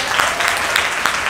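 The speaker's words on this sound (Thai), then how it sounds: "ขอเสียงปรบมือให้กับเพื่อนๆหน่อย" Audience applause at a cover dance audition round at MBK Center, a steady wash of clapping with a few sharper peaks across the whole stretch, fairly loud and continuous.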